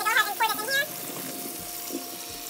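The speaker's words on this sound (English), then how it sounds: "So what I'm gonna go ahead and do is drain my pasta here in my colander. I do like to have hot water running behind it" Pasta water draining into a colander in a kitchen sink while the hot tap runs behind it, a steady wash of running water that starts loud and splashy and then settles to a softer, continuous flow.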